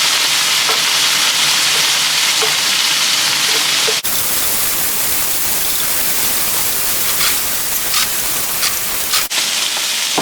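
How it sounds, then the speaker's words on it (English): Shrimps sear in hot oil in a hot pan, producing a loud, dense, continuous sizzle close by that swells as they are turned, with no talk over it. "put in your shrimps. Quick sear on each side."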